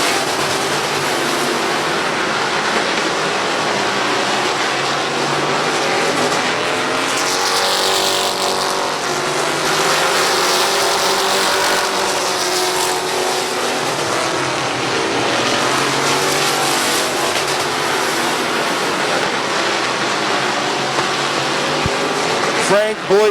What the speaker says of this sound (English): Grove still trying to get around Tannerelli. Those two have been side by side since lap number 1